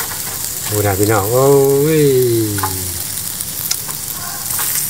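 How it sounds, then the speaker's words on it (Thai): Pork ribs frying with garlic in hot oil give a steady broadband sizzle throughout, with a voice speaking loudly over the middle of it. "ซี่โครงหมูทอดให้ซี่โครงหมูย่างกระเทียม"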